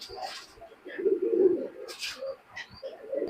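Pakistani high flying pigeons coo in low, repeated throaty phrases close by, with a few soft clicks and rustles between the calls.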